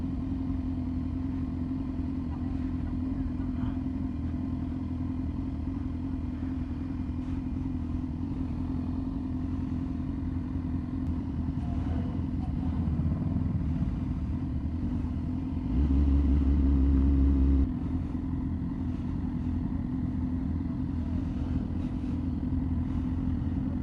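Superbikes gather at a bike night, including Fireblade, Ducati V4, S1000RR, R1 and ZX10R machines, a steady low engine rumble throughout with a brief louder swell of revving near the end.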